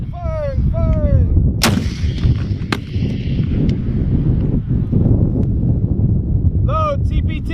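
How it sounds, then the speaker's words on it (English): An M3E1 Carl Gustaf recoilless rifle fires with one huge, sharp blast followed by a few more booming reports in open wind, while people shout commands before and after. "Cock the weapon. Firing, firing, firing!"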